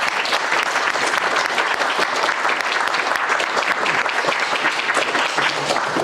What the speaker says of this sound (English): So if you join me in a round of applause for Professor A.C.